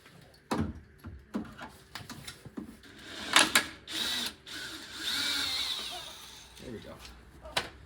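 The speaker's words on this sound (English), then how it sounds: "I'm gonna get a drill bit and drill the head off of it" Drill grinding into a stripped screw head while removing trim on an AMC Hornet, short bursts of whirring bit between pauses and handling clatter, close by.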